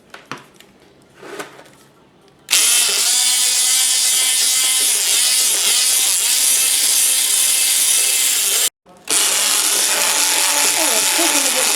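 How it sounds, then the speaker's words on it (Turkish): Eggs and sugar being whisked for banana chocolate brownies, a steady, loud scraping whir running continuously for several seconds after a short quiet stretch with faint talk, briefly cutting out before resuming. "Şimdi yumurtamızla şekerimizi çırpıyoruz."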